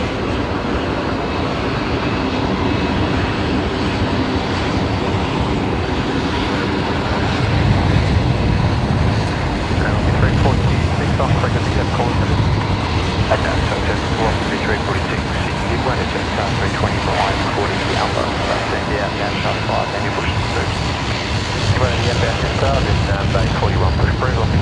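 At Brisbane Airport an airplane lands after a wobbly approach, holding its nose gear up for a long time. A loud, sustained engine roar and rumble carry across the whole span, with voices talking over it.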